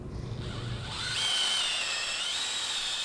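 Power drill boring 1/4 inch holes in glued wooden hinge blocks for a miter saw stand, a short motor whine that rises and holds steady, close and alone.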